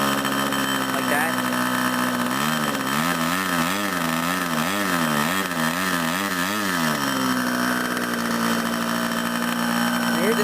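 A small model glow engine idles quietly with a steady, close, continuous buzzing hum whose pitch wobbles briefly in the middle before settling back to an even drone.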